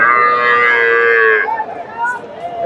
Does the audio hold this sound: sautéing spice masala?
no